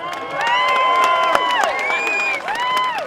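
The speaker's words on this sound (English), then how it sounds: "Can you give her a round of applause?" A rally crowd in Olympia, Washington cheering and clapping for a speaker, a loud, dense roar of whoops and applause sustained throughout, close and unbroken.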